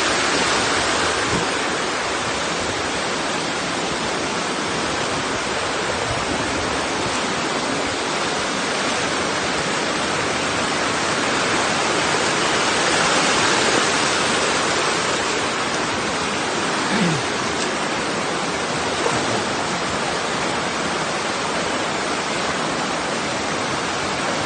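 Floodwater rushing steadily past during 2024 flooding, a dense, continuous broadband roar like a loud torrent that holds constant throughout without pause.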